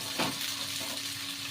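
A steady, fairly faint frying hiss from food in a pan in a cluttered home kitchen, with a spatula scraping briefly near the start and a constant low hum underneath.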